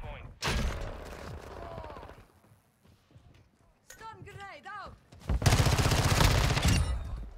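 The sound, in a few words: X13 SMG gunfire in video game Modern Warfare 2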